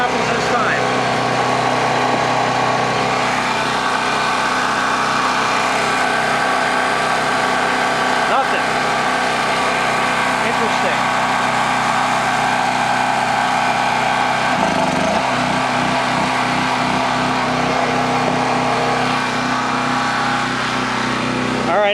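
A Predator 3200/4000 watt portable gasoline generator engine runs steadily and loudly throughout, a constant droning hum with slight fluctuations, no talking over it.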